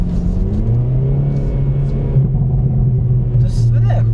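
A Hyundai i30 N with a DCT gearbox revs with a deep, rumbling exhaust tone that rises and holds, close by, with a voice speaking over it.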